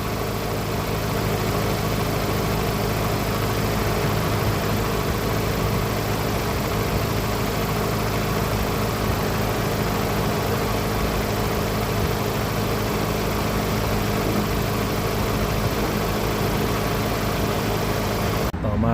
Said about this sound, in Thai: ฟังเสียงเครื่องยนต์อีกครั้งนะครับ หลังเปลี่ยนน้ำมันเครื่อง 5W30